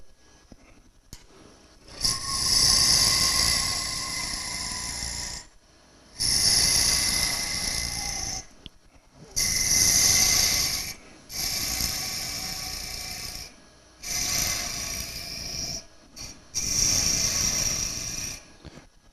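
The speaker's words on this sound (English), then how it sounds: "I'd come back and sand all of this up" Sandpaper pressed against a spinning wooden toothpick holder on a woodturning lathe, heard as six separate bursts of raspy abrasive hiss, each lasting about two seconds, with short near-silent gaps between them.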